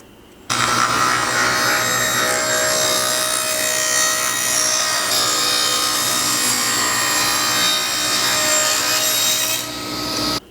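A bandsaw trims a wooden runner: a loud, close, continuous rasping whine of the blade in wood that holds steady for about ten seconds, then eases briefly just before stopping, with no talking.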